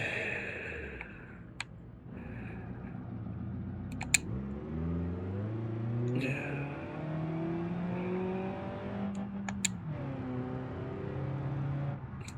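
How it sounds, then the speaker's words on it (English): A struggling car engine in the BeamNG driving game revs up and down for about twelve seconds, its pitch climbing in rising sweeps and then falling back, with a few sharp clicks scattered through it. "That wasn't a happy engine noise."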